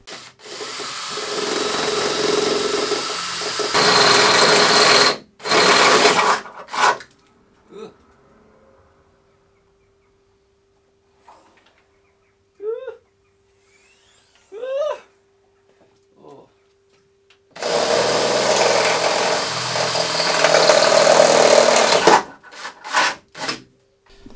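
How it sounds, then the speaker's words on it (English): Two long bursts of a power drill grinding through a car panel on an E36 race car, loud and close, separated by quiet stretches with brief clicks and a short voice. "Drill through that hole."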